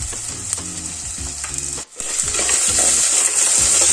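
Cut potato and onion get stirred in a frying pan for a jackfruit curry. Rhythmic scraping strokes sound over a steady hiss of sizzling oil, with a short pause midway and no talking.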